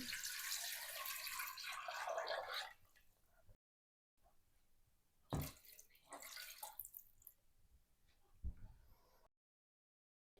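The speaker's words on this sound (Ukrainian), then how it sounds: "заливаю водою." Tap water splashes into a saucepan holding a cheap chicken soup set for borscht, a close, bright rush that breaks off into brief pauses and short bursts of pouring and drips.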